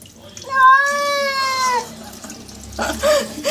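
A cat yowls through a long, drawn-out meow while being bathed in warm water, loud and close. A voice talks around it, and faint water sounds follow.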